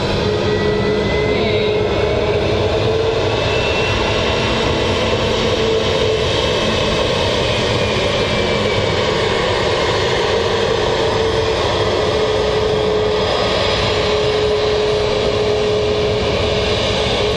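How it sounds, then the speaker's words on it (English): Airbus A320 jet taxiing at idle thrust at Manchester Airport, a steady engine whine and low roar held at constant level throughout, fairly close and unbroken. "with the A320s, they don't really give it much thrust on the taxi. I think a lot of the time they're just at idle."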